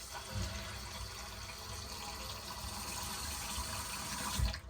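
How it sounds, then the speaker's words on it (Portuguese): Cold water runs steadily from a tap into a bowl of rice set in a sieve, a continuous rushing splash with small bumps of handling and no talking. "Eu vou começar a lavar com água fria sempre"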